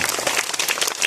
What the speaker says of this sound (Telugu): పావనికి అందరూ ఒకసారి చప్పట్లు కొట్టండి